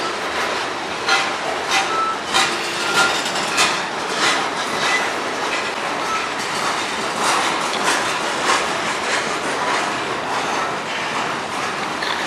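CN manifest freight train hauled by locomotives 3282 and 3823 on the Strathroy Subdivision, its cars rolling past close by with continuous clickety-clack of wheels over rail joints.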